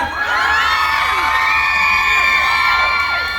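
A concert crowd at a food expo in Saraburi, Thailand screams and cheers continuously at high pitch, shrill overlapping voices filling the whole stretch loudly without pause.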